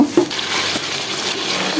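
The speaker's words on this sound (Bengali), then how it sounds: "চালটাকে আমি সুন্দর করে ভেজে নিব, বেশ কিছুক্ষণ তেলের সাথে মশলার সাথে ভেজে নিব।" Rice frying in oil with spices, being prepared for a red chicken curry, gives a steady broadband sizzle with a couple of brief stirring scrapes near the start, close and fairly loud, with no talking.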